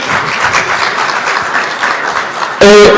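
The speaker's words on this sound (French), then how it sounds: "Applaudissez pour lui," Audience applause at a year-end certificate ceremony for foreign students in Bejaia, steady dense clapping throughout, loud and close, briefly cut off by a sharp loud electronic tone at the end.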